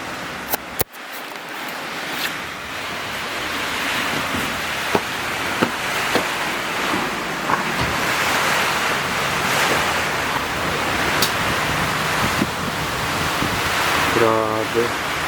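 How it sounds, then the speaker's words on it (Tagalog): Heavy rain and gusting wind of Typhoon Uwan roaring steadily as a dense wash of noise heard from a third-floor room, with a few knocks and clicks and a brief tonal sweep near the end. "Hindi ka talaga makakatulog dahil sa patak ng ulan at tunog ng hangin"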